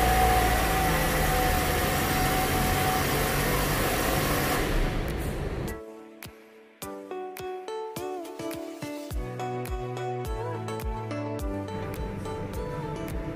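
A Toyota Voxy engine idles with a steady, noisy rumble for several seconds, then fades out and gives way to plucked, twinkling music.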